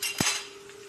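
A metal lid goes onto a pot of pancit with a single short clink, close and moderately loud, then a faint ringing tail and quiet room hum.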